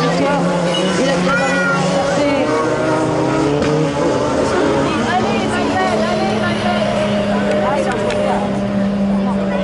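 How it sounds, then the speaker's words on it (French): Race cars in a Maxi Tourisme final at the Les Cresnays circuit roar steadily past, with a constant loud engine drone and rising and falling whines through the whole stretch, under a background of crowd babble. "Allez, Anthony Marie, voilà le pilote normand qui passe devant nous là-haut, ralenti malheureusement."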